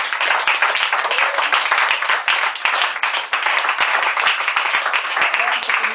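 A church congregation breaks into loud, dense applause to acclaim the Lord at an evangelistic service, sustained clapping filling the room with no break.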